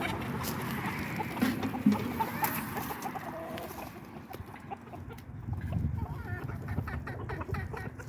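Chickens cluck softly in the background amid light outdoor noise, with a few sharper calls near the start.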